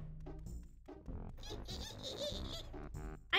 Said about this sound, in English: it makes little squeaky sounds